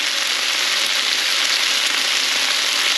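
Glass noodles, shrimp and bok choy sizzle steadily in a hot pan as scallion is added, a loud, even frying hiss with no break.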